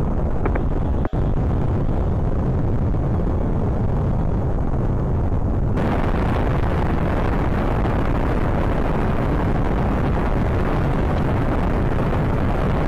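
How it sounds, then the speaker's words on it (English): Solid rocket boosters separate from a mini SLS rocket in Spaceflight Simulator amid a loud, continuous engine roar. A sharp crack sounds about a second in, and the roar shifts to a duller, lower tone midway through. "Standing by for separation of the solid rocket boosters."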